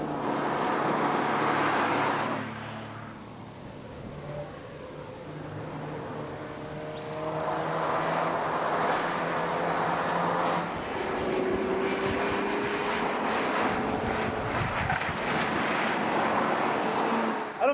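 A base front-wheel-drive Mercedes CLA being driven, heard as a steady broadband engine and road roar from inside, dipping briefly and then rising again with faint tonal whine, without talk.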